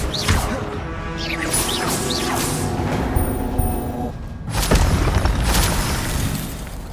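Spell effects from the Incendio fire spell in Hogwarts Legacy, with whooshing sweeps, crashing impacts and a burst of fiery noise near the end, loud and dense with a steady game backdrop.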